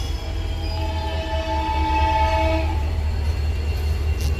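A Kachiguda–Ashokapuram superfast express train rolls through Kachiguda with a steady low rumble, while a long horn blast sounds loudly over it for about two and a half seconds before fading.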